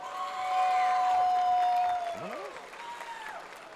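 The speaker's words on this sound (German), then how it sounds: "Ein Applaus für Elsa, Freunde." Applause and light cheering from a convention award ceremony crowd run throughout, with a steady tone and swooping whistle-like sounds heard above the clapping.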